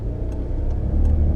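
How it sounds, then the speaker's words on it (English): A 1990 Nissan Skyline Executive drives along with a steady low engine drone and road rumble, fairly loud and close, with a couple of faint high ticks over it. "Let's drive the car."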